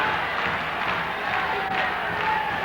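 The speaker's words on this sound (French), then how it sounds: "Cela hurle, cela crie, cela applaudit de tous les côtés." A large crowd roars, cheering and clapping in a steady, dense wash of noise that echoes across a big open arena during the 1971 Intervilles final, Dax vs Carcassonne.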